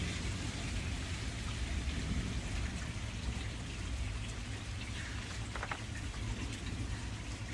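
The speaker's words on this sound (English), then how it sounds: "You hear that thunder?" Steady rain patters and drums on surfaces in a dense, even wash, with a low rumble of thunder underneath. No voices are heard.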